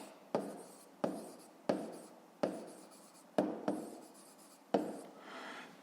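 Pen strokes on paper during a fifth-grade maths exercise: six sharp, distinct taps and scratches at roughly even intervals, each followed by a short fading scrape, close and alone.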